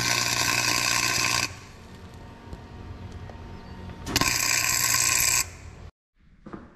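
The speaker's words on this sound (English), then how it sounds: "So we're gonna go ahead and weld that on and see what happens." Welding on the threaded bolt of a 1979 Chrysler 300 gives a loud, steady crackling hiss in two long bursts separated by a quieter stretch, then cuts off abruptly into near silence.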